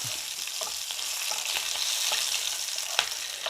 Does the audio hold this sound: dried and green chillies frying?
yes